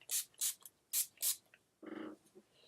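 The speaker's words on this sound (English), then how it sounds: "I'm just gonna soak my face in some setting spray" Makeup setting spray mists onto a face in several quick, hissing bursts, close and soft, followed by a brief lower rustle.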